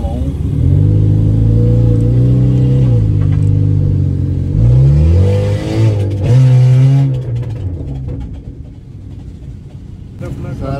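Car exhaust revving loudly in repeated rising and falling bursts, with rough rumble from piping rubbing, and someone talking over the engine at points.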